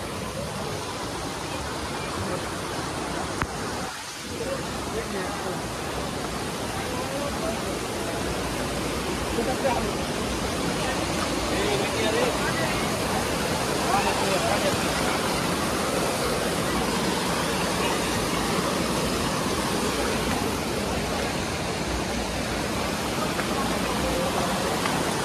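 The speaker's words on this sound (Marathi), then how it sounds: "आता तुम्हाला दाखवतो कसा आहे धबधबा." The Dugarwadi waterfall roars with loud, continuous rushing water that fills the whole stretch as a dense, unbroken wash. It stays close and steady throughout, with a brief dip near the start.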